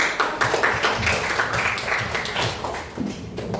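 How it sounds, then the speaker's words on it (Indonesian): Schoolchildren in a classroom clap their hands together, a short burst of uneven, moderately loud claps that fades toward the end with a faint voice underneath. "Beri tepuk tangan."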